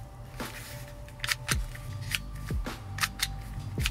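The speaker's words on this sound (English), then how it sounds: "it does come with this little button here that clicking it pops out all of our cards." Card holder button pressed with sharp, close clicks, followed by the snap of cards popping out, several crisp mechanical clicks scattered over a few seconds in a quiet room.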